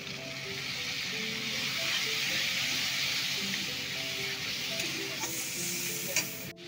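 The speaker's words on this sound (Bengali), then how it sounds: "দিয়ে দেবো একটু হলুদ, দিয়ে আমি একটু ভালো করে কষিয়ে নেবো। একটু জল দেবো এখানে মশলায়।" Spice masala with turmeric and water cooking in a pan, a loud steady hiss and sizzle with occasional stirring scrapes, ending in a brief clatter.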